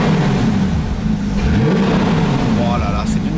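A Porsche 911 R engine revs hard through an open exhaust with valves open, a loud rasping roar that rises and falls, with voices faintly underneath.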